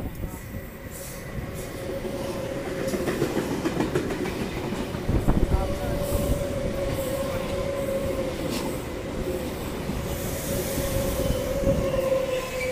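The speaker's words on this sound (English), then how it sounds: "And passing platform 4 we have a Hamilton Newcastle service." A Sydney passenger train on a Hamilton Newcastle service passes platform 4 at Denistone station, with a sustained rumble, wheel squeal and clickety-clack that build and hold throughout.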